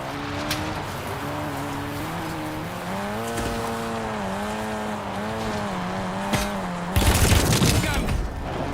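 Car driven in the video game Call of Duty Warzone on the Verdansk map, a steady engine drone with rising and falling pitch across several seconds, gunfire crackling around it and a loud burst of noise near the end.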